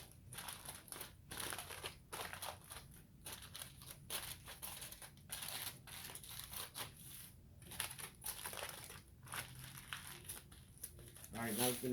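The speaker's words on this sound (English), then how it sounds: "we're gonna come back and double wrap it. But we want it to get sealed up real good. And we're using heavy duty aluminum foil today." Heavy duty aluminum foil crinkles and crumples continuously as ribs are double wrapped and sealed for the oven, close, steady rustling with short pauses.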